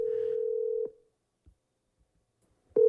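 Telephone call being placed, with a steady single-tone beep that cuts off, a near-silent pause broken by a few faint clicks, and then a new tone beginning at the end.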